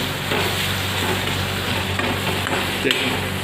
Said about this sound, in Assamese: অকণমান ৰং মচলা সৈতে অকণমান গোটেই ভাজিম আৰু 2-3 মিনিট